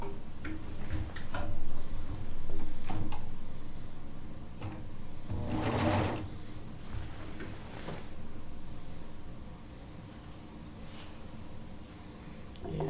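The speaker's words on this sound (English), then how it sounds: "Get that seam sewn together" A domestic sewing machine stitches a quilt seam, its needle running in quick, steady ticking bursts with a louder rush near the middle, close and clear with no talk.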